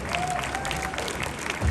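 A crowd applauds and cheers for Special Olympics contestants crossing a stage, dense clapping with some voices mixed in, brief and continuous.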